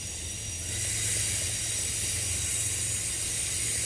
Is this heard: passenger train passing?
yes